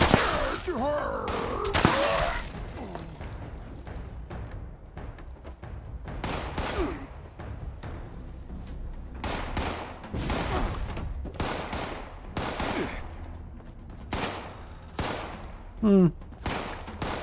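Shotgun fire in the video game Fallout 76: a series of sharp, separate blasts spread irregularly through the scene, with quieter gameplay noise between them and a voice talking at times.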